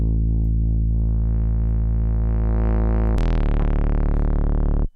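An Arturia MiniFreak V synthesizer holds a steady, buzzy sustained tone that wobbles, then turns harsher and brighter as distortion kicks in, ringing loud and alone before cutting off abruptly.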